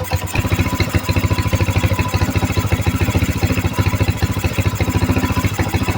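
A motorcycle engine idles during a regulator-rectifier voltage check, its close, steady, evenly pulsing putter holding level throughout.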